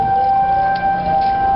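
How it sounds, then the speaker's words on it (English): A tornado warning siren sounding during a storm in Tornado Alley, a steady sustained wail held at one pitch across the whole short stretch, loud and alone without talk. "And there goes the sirens again."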